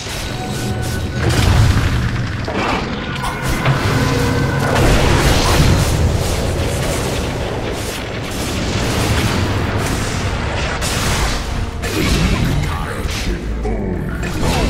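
Deep booms and crashing impacts roll through a Dota 2 battle as a tower is destroyed, loud and repeated over a dense layer of combat noise.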